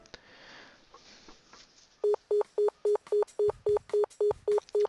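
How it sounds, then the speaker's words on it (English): A repeated electronic phone ringback tone in the visual novel Nekopara, about eleven evenly spaced beeps in a steady rhythm, preceded by quiet rustling. "Why is no one picking up the phone?"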